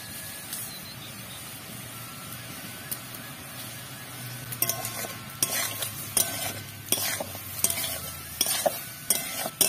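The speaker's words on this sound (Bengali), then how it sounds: "এবার এটাকে ভালোভাবে মিশিয়ে নেব।" Broccoli salad with spices and lemon juice being stirred and tossed in a bowl, with soft scraping swishes that grow busier and louder in the second half, close by and without talk.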